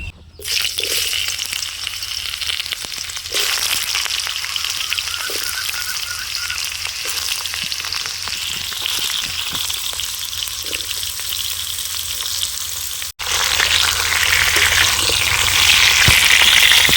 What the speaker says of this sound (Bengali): আমটা তেলের মধ্যে একটু ভেজে নেব তাহলে শুকিয়ে যাবে